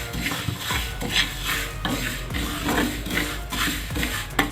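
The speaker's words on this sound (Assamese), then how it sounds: "এতিয়া মছলাখিনি গৰম কৰি ল'ম" Fenugreek, black mustard and other spice seeds dry-roasting and being stirred in a pan for mango pickle, a steady scraping, rattling stir with clinks of utensil on metal throughout, close and fairly loud with no talking.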